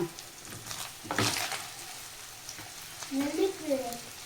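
Small paneer chunks fry lightly in a pan with a soft, steady sizzle, a brief louder burst of stirring early on, then quieter crackling with a few faint tonal squeaks near the end.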